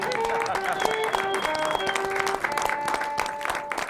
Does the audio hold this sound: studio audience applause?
yes